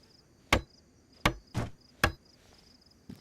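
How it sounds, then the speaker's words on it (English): A hammer building a wooden floor frame in a survival video game strikes four sharp, loud, close thuds at uneven intervals, then a fainter fifth hit, over a quiet high-pitched insect-like ambience. "Our trusty hammer."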